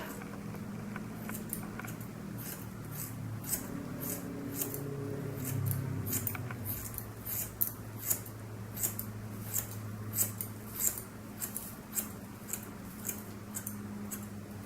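Scissors snip steadily through a person's own hair at home, a run of crisp, close cuts repeating about once a second over a low background hum, with no talking.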